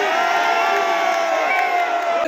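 A large crowd at a political rally roaring and chanting in unison, a dense, loud and continuous wall of voices.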